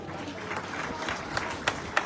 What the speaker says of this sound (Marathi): आणि त्या आलेल्या प्रत्येकासाठी जोरदार टाळ्या वाजवा